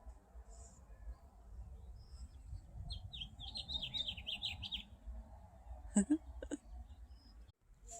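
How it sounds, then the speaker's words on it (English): A short, bright warbling house finch song rises over outdoor background noise, followed by a few sharp chirps and a brief clunk nearby. "hear the house finch?"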